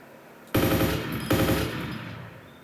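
Automatic gunfire in a first-person shooter game blasts in two sustained loud bursts, rapid rattling shots filling the clip and fading slightly at the end.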